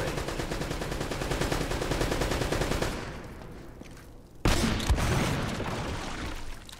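Rapid, steady automatic gunfire from Uncharted: Drake's Fortune, close and loud, breaks off briefly before a sharp blast restarts a fresh stream of shots.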